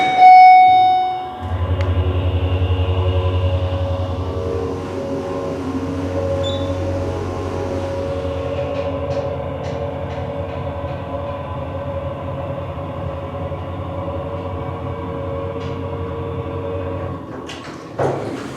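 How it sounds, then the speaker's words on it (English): A Smartrise hydraulic elevator's motor runs with a loud, steady low hum and whine that starts abruptly, holds for about fifteen seconds, and then cuts off. "That was quite a motor this thing has."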